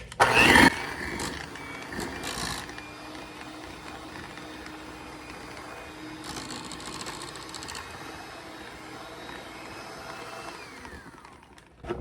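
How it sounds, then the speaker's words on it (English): Electric hand mixer whirs steadily through cooked potatoes with butter and salt, a continuous close motor drone preceded by a few clattering knocks at the start. "Use the hand mixer."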